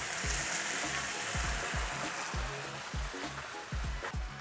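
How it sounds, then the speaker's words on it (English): White wine hits a hot pan of garlic, shallots, butter and oil, raising a loud, constant broadband sizzle, punctuated by repeated low thumps and knocks of stirring. "So I'm adding white wine to make it awesome."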